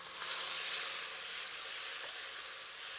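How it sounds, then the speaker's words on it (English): Ginger garlic paste sizzles steadily in a pan over medium heat as it is stirred, a close, even frying hiss that holds for the whole stretch with no talking. "Give it a stir."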